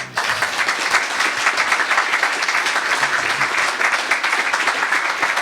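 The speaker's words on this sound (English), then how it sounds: "Give yourselves a round of applause." An open mic audience at the Hanthorn Cannery Museum applauds in a steady, dense wash of clapping that stays loud and even throughout, with no talking over it.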